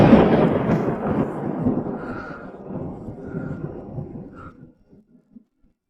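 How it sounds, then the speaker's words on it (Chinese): Thunder rolls in loud and close, a long rumbling crash that slowly fades into scattered faint grumbles before dying away to silence. "你怕打雷？"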